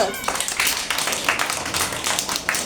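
Children at an anganwadi school activity clap their hands. The claps come in quick, uneven bursts, loud and close, over lively voices and chatter.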